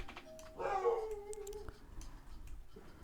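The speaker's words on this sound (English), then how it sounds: "you can hear the dog barking in the background" A dog lets out a single howling, whining vocalization in the background, rising then trailing off, fairly faint against a quiet room.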